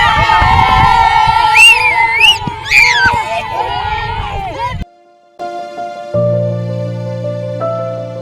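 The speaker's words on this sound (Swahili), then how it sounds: "Pigeni mavigelegele." A crowd at a junior football club celebration cheers, shouts and ululates loudly for about five seconds before cutting out abruptly, after which steady sustained tones follow.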